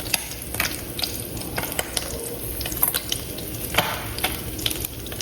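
Steady sizzling of fish frying in hot oil, with scattered crackles and pops and occasional clinks of a utensil stirring the pan, close by.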